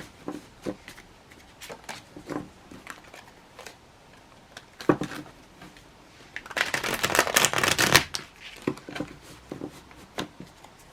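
Cards being shuffled up close: soft riffles and taps come in short bursts, building to a longer, louder flurry before easing off.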